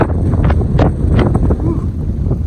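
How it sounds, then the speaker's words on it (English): Strong wind roars and buffets the microphone continuously in a mountain gap on the Appalachian Trail, loud and close, with gusty rumbling throughout. "Got windy again here in this gap."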